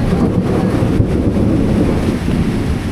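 Thunder from a lightning strike rolls as a loud, low, sustained rumble that fills the whole stretch, swelling and easing slightly without any voices.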